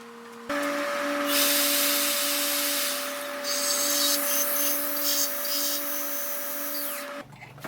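A homemade motor-driven linear buffer whirs steadily while polishing brass railings, a harsh continuous rubbing, grinding buffing noise that starts abruptly and cuts off near the end.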